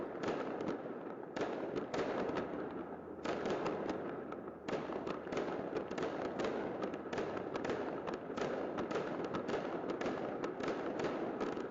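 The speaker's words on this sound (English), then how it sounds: "Oh, they're doing fireworks." Fireworks bursting at midnight over Odessa, Ukraine, heard from afar as a dense, continuous crackle and pop of many explosions, with only a few brief lulls.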